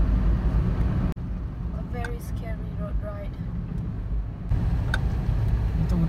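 A car drives along a steep, winding mountain road, its engine and road rumble a steady loud drone with a brief dropout and faint ticking, as people talk quietly inside.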